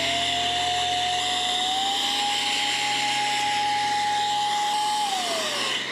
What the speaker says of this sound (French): C'est des souffleurs.